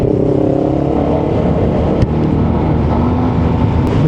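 A Yamaha TMAX 560 scooter's 560cc engine drones steadily and loudly while riding, with a continuous low rumble and wind roar throughout.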